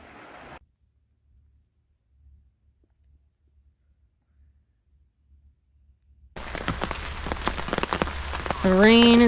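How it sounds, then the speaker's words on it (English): Rain falls steadily outdoors on a hike in Fundy National Park, a dense close patter that starts abruptly after a near-silent stretch and builds with a tonal sound at the end. "The rain is here now."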